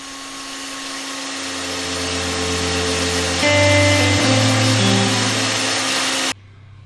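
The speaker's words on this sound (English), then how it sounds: "I'll take the billet to my surface grinder attachment on my 2x72 belt sander and surface grind the top and bottom sides flat" Damascus steel billet surface ground on a 2x72 belt sander with a surface grinder attachment: a steady, loud motor whine and belt hiss that rises and shifts in pitch as the steel is pressed on, then stops abruptly.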